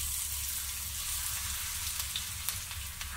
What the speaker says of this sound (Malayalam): ഇതുപോലെ ബാക്കിയുള്ളതും കൂടെ നമുക്കൊന്ന് ഫ്രൈ ചെയ്തെടുക്കാം